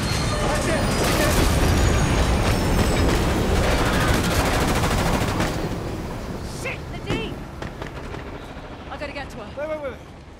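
A train in the Uncharted: Legacy of Thieves game rumbles loud and continuous beneath a dense wash of gunfire and chaotic action noise, easing somewhat toward the end while sharp bursts and voices break through.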